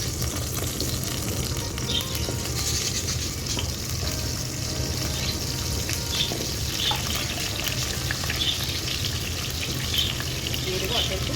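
Cut potatoes are frying in hot oil in a wok for an omelette-style egg curry, with a steady, loud, continuous sizzle and crackle running throughout.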